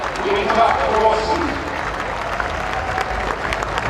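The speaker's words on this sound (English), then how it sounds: "And warm applause from the crowd here." Racecourse crowd at Royal Ascot on Gold Cup Day 2007 applauding as Yeats returns, a broad wash of distant clapping from a large crowd, steady throughout, with a commentator's voice over it at the start.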